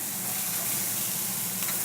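Onions roasting in a little butter in a pan make a steady, close, broadband sizzle, an even hiss that runs unbroken throughout with no talking.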